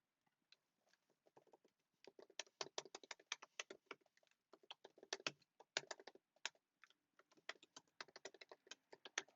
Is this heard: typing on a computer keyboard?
yes